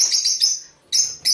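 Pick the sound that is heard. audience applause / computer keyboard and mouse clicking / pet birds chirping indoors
pet birds chirping indoors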